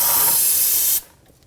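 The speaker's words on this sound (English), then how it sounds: "Little brake parts cleaner." Brake parts cleaner sprays from an aerosol can in one loud, close, steady hiss lasting about a second, then cuts off abruptly into quiet.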